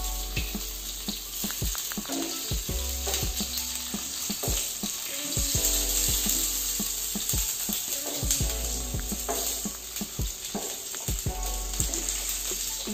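Sliced green chilies and red chilies sizzle in hot oil with urad dal for a South Indian tempering: a steady, close frying hiss broken by clicks and stirring knocks, with no talking.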